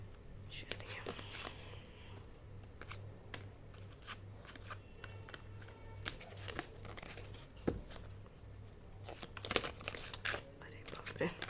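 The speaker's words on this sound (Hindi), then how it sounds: "जब तक मैं शफल करती हूँ" Tarot cards are shuffled close up in a quiet room, giving soft riffling and papery crinkling in irregular bursts under a steady low hum, with someone speaking softly now and then.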